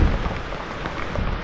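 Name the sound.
rain falling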